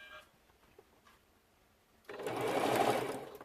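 Sewing machine back stitching a mug rug: a short, quiet pause, then a close, steady mechanical whir of rapid stitching for about a second and a half, heard alone.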